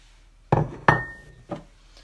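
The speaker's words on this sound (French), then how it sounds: "je mets tous les ingrédients dans le bol du robot" Ingredients for homemade tortillas, such as flour and butter, dropped into a food processor bowl: a few separate knocks and clinks against the hard bowl, close and moderately loud, with short pauses between them.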